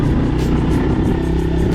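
A 50cc dirt bike engine running close and loud, a steady, unbroken buzzing drone with no gaps.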